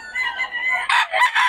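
Roosters crow loudly and close at the busy Friday chicken market in Bocaue, several overlapping calls in quick succession with no voices.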